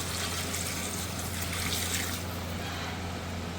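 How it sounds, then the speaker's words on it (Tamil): Four litres of water pour into a pot for chicken biryani, giving a steady, continuous rushing trickle that runs unbroken at moderate level throughout. "4 லிட்டர் தண்ணி ஊற்றிக்கிறேன்."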